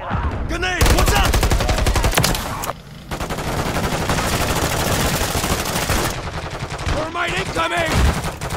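Video game gunfire rattles in dense, loud bursts of rapid automatic shots, broken by a brief lull near the start and a short pause midway before resuming.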